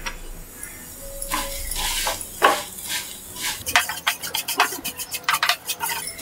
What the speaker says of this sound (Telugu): అదే ప్యాన్లో మిగిలిన ఘీలో ఈ సేమియా వేసి వేయించుకోవాలి.